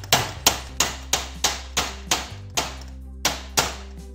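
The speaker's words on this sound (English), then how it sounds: "We'll now use our hammer to tap this back in place." A hammer taps a nylon garage door roller back into place: about ten sharp, evenly spaced knocks in quick succession, close and loud, each ringing briefly before the next.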